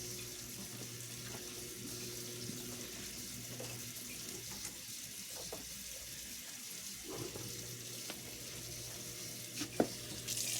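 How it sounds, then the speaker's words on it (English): A scrub brush rinsed under a running kitchen tap, a steady soft hiss of flowing water into the sink with faint splashes and a few small clicks and knocks near the end. "So I always rinse my brush out because it sits out on my counter."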